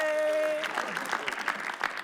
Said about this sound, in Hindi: तालियां इनके लिए